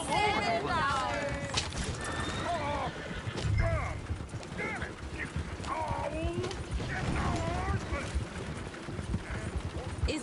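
Horses in the Red Dead Redemption 2 video game neigh and whinny over steady clip-clopping hooves, with a busy street scene behind and people talking throughout.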